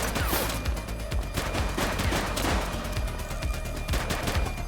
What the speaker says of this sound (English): Light them up! Shots fired!